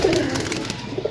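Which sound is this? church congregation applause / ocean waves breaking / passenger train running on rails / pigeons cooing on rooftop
pigeons cooing on rooftop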